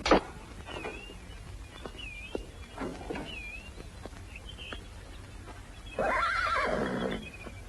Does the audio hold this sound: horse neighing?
yes